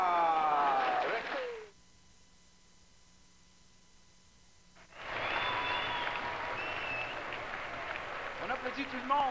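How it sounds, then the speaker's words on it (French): Audience applause and crowd noise at a western festival stage show, a broad wash of clapping that fades into a brief quiet lull, then swells back, with a voice speaking over it. "On applaudit tout le monde."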